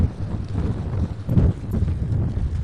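Wind gusts across a seaside promenade in Llandudno, a steady low buffeting roar with a stronger gust midway and no voices.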